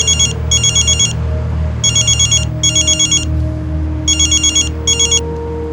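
A telephone rings loudly in short paired bursts of trilling electronic tones, repeating three times with brief pauses, over a low background hum.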